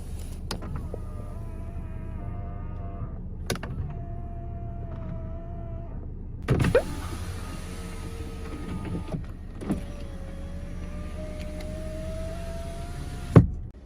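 Electric folding side mirrors on a used white Renault Samsung SM7 whir as their motors run in several separate bursts, each a few seconds long, heard close with no talking.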